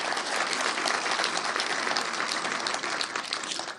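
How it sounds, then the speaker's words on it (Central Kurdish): An audience at a film screening claps in sustained, even applause that fills the room at a steady level before tapering off at the end. "داواتان لە یەکەمێک چەپڵە بۆ کاگاکۆتکایە."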